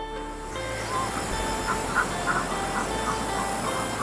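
Ducks quacking at a rural farm on a misty morning, their calls repeating faintly over a steady broadband outdoor hiss.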